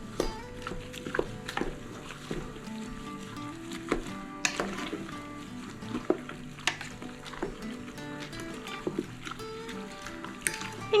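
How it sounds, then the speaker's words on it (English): A sugar and pectin mixture stirred into strawberry jam in a pot, with scraping utensil strokes, soft wet bubbling and occasional knocks repeating irregularly over a low steady hiss, close by with no speech. "And then you're just going to stir till it's all combined."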